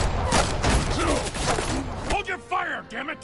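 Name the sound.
gunfire in a film scene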